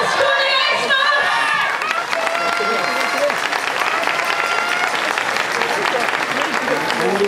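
Applause from an audience greeting a dance performance group opening a show, dense, loud and continuous throughout, with crowd noise and some cheering mixed in.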